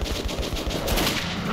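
Rapid automatic gunfire in Metro 2033 Redux rattles in a dense, continuous burst of close, loud shots.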